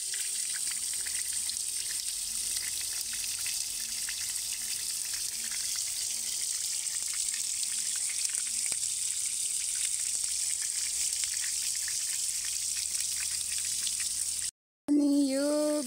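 Water pours steadily from a pipe fed from a bamboo thicket, a continuous close rushing gush that stays even throughout before cutting off abruptly near the end.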